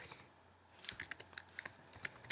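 Typing on a computer keyboard while writing Android code: quiet at first, then a run of irregular crisp key clicks and taps, close and soft, with no talking.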